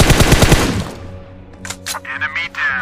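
Automatic gunfire in the mobile game PUBG Mobile sounds as a loud, fast burst of close shots lasting under a second, followed by ringing game tones and electronic sound effects.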